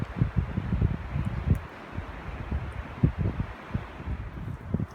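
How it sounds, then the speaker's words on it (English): Strong wind gusting through woodland on a bright day, low buffeting roar with irregular surges and rustling, blowing steadily close to the microphone with no voices. "Still really windy though."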